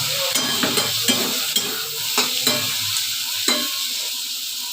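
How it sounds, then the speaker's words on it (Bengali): Onions frying in a pan with a pinch of sugar, a steady hiss of sizzling broken by several sharp stirring scrapes of a spoon at irregular intervals, close and alone. "যতক্ষণ না ব্রাউন কালার হয়ে যাবে ততক্ষণ ভেজে নেব।"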